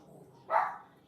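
A pet dog gives one short, sharp bark at moderate distance indoors, with near quiet before and after.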